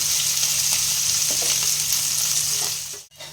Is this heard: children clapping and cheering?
no